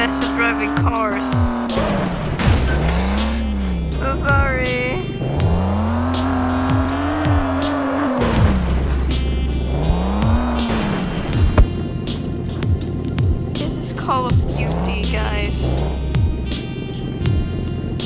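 In a Minecraft driving game, a car engine drones and revs in repeated rising and falling sweeps, with brief skids and thumps, while a person chatters over the steady loud motor sound.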